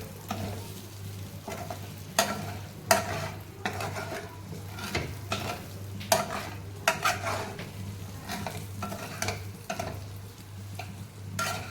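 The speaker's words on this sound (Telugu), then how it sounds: "మనము ఈ కైమాని ఫ్రై చేసుకోవాలి" Mutton keema frying in oil with steady stirring, a continuous sizzle broken by repeated scrapes and clinks of a spoon against the pan, close and fairly loud, no voices.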